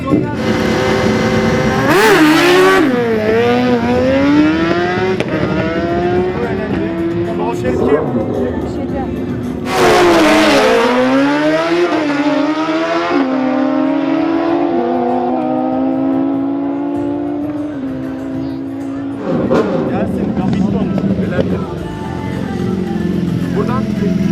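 Euro Street drag racing motorcycles at a Motodrag championship round in Kepez, Antalya rev hard and scream through rising gear pulls, loud and sustained with repeated surges. An announcer talks over the engines throughout.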